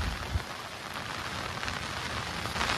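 Heavy storm rain pours on a fishing boat at Satpati near Mumbai, a dense, constant roaring hiss of drops with no voices.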